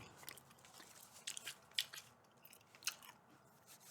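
Gum chewing close to the mic, soft wet smacks and crunchy bites spaced irregularly over a quiet background.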